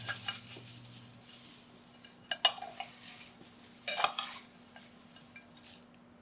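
Fried garlic, fried onion and prawns being mixed together for Bangladeshi balachao: soft scraping and stirring with a few sharper clinks and rustling bursts, close by and fairly quiet, no voices.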